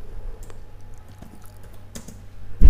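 Keys tapped on a computer keyboard while an SQL update query is entered, soft irregular clicks over a low steady hum, ending in a louder thump.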